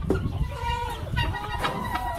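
Little baby goats that escaped into a barn bleat in short, wavering calls, mixed with clucking fowl nearby, a busy, close farmyard chorus lasting a couple of seconds.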